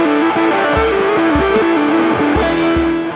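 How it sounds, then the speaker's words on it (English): A Gibson Les Paul electric guitar played through a ProCo Rat distortion pedal chugs out a loud, filthy rock riff, heavily saturated with rhythmic palm-muted low notes and sustained chords. "a Les Paul paired up with a good old Proco Rat that is perfect for just filthy rock tones"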